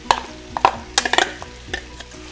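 Ground masala for undhiyu stirred in a pan, a spoon scraping and clinking in short irregular strokes over a faint background sizzle, close and fairly loud with no talking.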